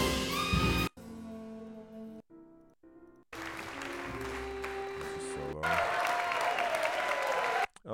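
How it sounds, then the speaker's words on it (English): Applause at a jazz concert intermission comes in recorded bursts of dense clapping, cut off abruptly and resuming several times, with quieter gaps between loud stretches and a sustained final swell. "Let's see what the applause sounds like here."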